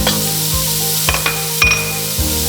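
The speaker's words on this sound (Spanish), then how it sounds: "en el mismo aceite le voy a agregar la cebolla" Onion sizzling loudly in hot oil in a pot after meat has been browned and removed, with a continuous crackling fry broken by several sharp scrapes of a spoon stirring the pan.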